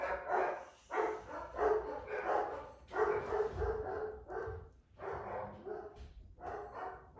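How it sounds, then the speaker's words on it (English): Several dogs barking in repeated loud bursts close by, a steady run of yaps and barks with brief gaps, no talking over them. "sorry about my dogs, they'll stop in a minute."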